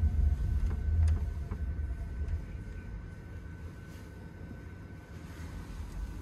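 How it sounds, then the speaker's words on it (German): A steady low hum of computer cooling fans fills the room, constant and unchanging, with a few faint clicks over it. "ihr hört vielleicht auch im Hintergrund das Ventilatorengeräusch, das sind die Computer."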